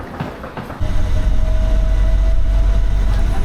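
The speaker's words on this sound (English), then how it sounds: "Whilst the monorail does have the downside of making the journey even longer" An airport monorail shuttle train gets underway: a brief quieter moment, then a loud, steady rolling rumble with a faint high whine that carries on close by.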